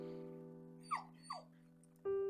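Newborn abandoned puppies, about ten days old, wrapped in a towel in a cardboard box in a video game, give two short, faint, rising whimpers over a steady sustained background tone.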